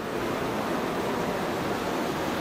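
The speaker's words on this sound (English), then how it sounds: "And here we are at the river." A river rushes steadily below a steep bank reached by rope, its flow a dense, unbroken wash of water noise close to the microphone with no talking.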